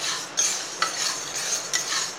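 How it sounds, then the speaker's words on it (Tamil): Urad dal being stirred and dry-roasted in a pan, a steady scraping rustle with a few sharper spoon knocks against the metal, close and alone without talk. "உளுந்தை நல்லா பொன்னிறமாக வறுத்துக்கோங்க."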